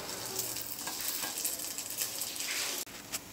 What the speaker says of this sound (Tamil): நம்ம ரெண்டு பக்கமும் திருப்பி திருப்பி போட்டு நல்லா சுட்டு எடுத்துக்கலாம்